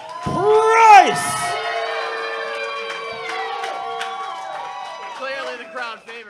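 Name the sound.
wrestling crowd cheering for the challenger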